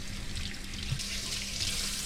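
A trout is rinsed under a running kitchen tap, a close and steady hiss of water splashing into the sink with no talking.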